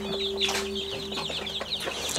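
Chickens on a farm recovering after a flood, including naked-neck birds, cluck and chatter in a repeated, overlapping rhythm close by, over a steady background hum.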